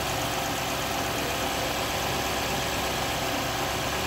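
A 2004 Toyota Land Cruiser 100 engine idles while warming up its automatic transmission, a steady constant low rumble and vibration, close by and unchanging, no voices.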